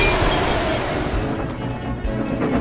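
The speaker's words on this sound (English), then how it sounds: "the sounds of tires screeching and metal crashing" A dense, loud crash of smashing and breaking, continuous clattering and crunching debris for a couple of seconds.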